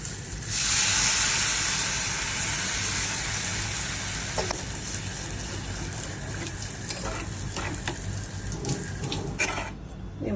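Water poured into a hot pan of frying okra during a home cooking of dherosh chorchori, a loud steady hiss and sizzle that swells at the start and then settles into continuous bubbling.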